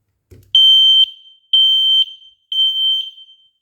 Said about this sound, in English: maybe it's a smoke alarm up there.